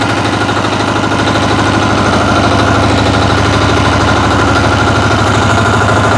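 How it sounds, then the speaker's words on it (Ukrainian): Motor Sich walk-behind tractor (motoblock) engine running steadily in low first gear, a loud, close, continuous chugging drone with a rhythmic knock and no talk over it. "покажу вам, що таке мотоблок, мотор Січ"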